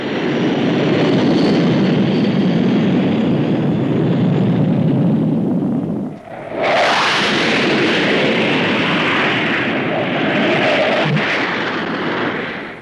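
A supersonic jet fighter, a type that first flew in spring 1959, roars loudly and continuously at the Farnborough air show, the thunderous blast dipping briefly midway before surging back to full power.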